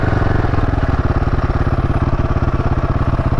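A Royal Enfield Himalayan 450 motorcycle being ridden, its single-cylinder engine thumping in a steady, fast pulsing rhythm, loud and close throughout with no talk over it.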